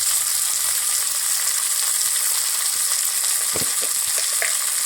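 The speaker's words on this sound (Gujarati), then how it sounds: "હવે આપણે ગુંદાની ભાજી નાખી દઈએ એટલે ગુંદાની ભાજી તેલમાં આપણે ચડવા દેવાની છે" Gunda flower greens frying in hot oil in a village kitchen, a loud continuous hiss and sizzle with a few small pops and a spoon stirring near the end.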